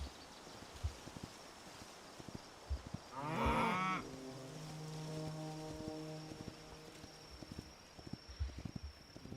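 Cows mooing in the video game Hytale: a single drawn-out moo rises midway, followed by a lower lingering bellow, over quiet outdoor game ambience with soft rustles.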